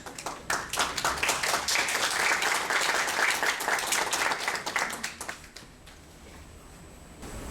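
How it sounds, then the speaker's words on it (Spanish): Strong applause from an audience greeting an architect and urban planner before a lecture, dense and loud for about five seconds, then dropping off abruptly to a quiet room. "nosotros lo vamos a recibir con fuertes palmas"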